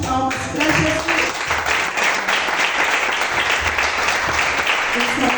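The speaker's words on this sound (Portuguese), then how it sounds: "Uma salva de palmas para Jesus." Sustained applause fills a church worship service, dense clapping from the congregation running steadily throughout with voices mixed in underneath.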